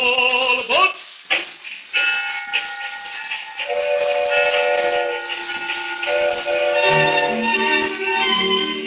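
Steam train sound effect on a 1928 recording, with hissing steam bursts and a whistle chord sounding alone, the old recording giving it a thin, compressed quality.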